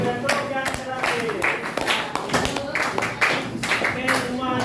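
A class claps for a presenter during a practicum session, irregular clapping mixed with voices and cheering, lively and close.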